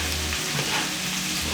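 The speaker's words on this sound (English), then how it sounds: "Okay, so I'm just adding my sausage. So easy. Here we go. It's already pre-cooked." Pre-cooked sausage fries in a pan with a steady, close sizzle that holds even throughout, no talking.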